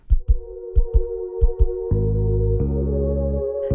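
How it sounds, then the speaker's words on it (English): A heartbeat thumps in close, low paired beats, about three lub-dub pulses, before sustained droning musical tones take over. "the sound of our mother's beating heart"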